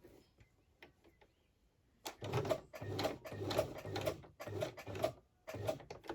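After a quiet start, a sewing machine stitches a small fabric tag in short rhythmic bursts of rapid clattering needle strokes, near and fairly loud, with brief pauses between runs.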